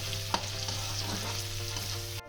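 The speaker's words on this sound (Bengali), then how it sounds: "এবার আমি রসুন, কাঁচা লঙ্কা আর পেঁয়াজটাকে একটু সামান্য একটু লাল লাল করে বা ব্রাউন কালার করে একটু ভেজে নেব" Garlic, green chilli and onion frying in a pan, a steady close sizzle with an occasional light tap of a utensil, continuing evenly until it cuts off near the end, no talking.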